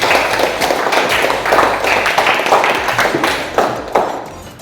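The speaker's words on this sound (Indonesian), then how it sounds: "Tepuk tangan untuk Risma." A small group, likely a class, claps for a student named Risma: loud, close, somewhat uneven hand claps in quick bursts, tapering off with a few final distinct claps.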